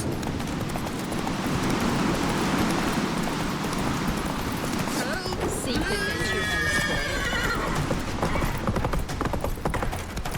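Roach, a horse in The Witcher 3, gallops with rapid clip-clop hoofbeats and lets out a loud neigh partway through, mixed with game effects and voices talking during a chase.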